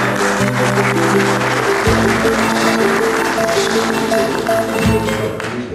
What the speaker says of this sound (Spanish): un fuerte aplauso para los alcaldes